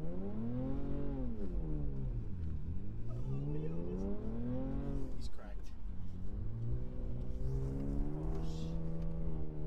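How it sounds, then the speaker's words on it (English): A Toyota Tacoma's engine revs hard while the truck drifts in snow, its pitch sweeping up and down in loud, close surges, with people talking over it. "Your car is loud as hell."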